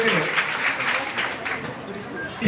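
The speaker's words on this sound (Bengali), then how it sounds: "আমরা হাততালি দিই।" At a quiz competition held by the Cox's Bazar district information office, an audience gives a short burst of applause, scattered clapping heard beneath a voice speaking.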